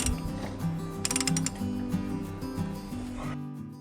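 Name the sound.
ratchet with 24mm socket tightening Jeep oil filter cap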